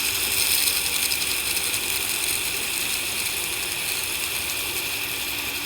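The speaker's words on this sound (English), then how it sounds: "The 60 grit belt will remove quite a bit of material pretty quick, so be careful." A belt grinder with a 60 grit belt cuts a hollow grind into a knife blade, giving a loud, continuous, close abrasive whir and rasp that holds steady throughout with no talk.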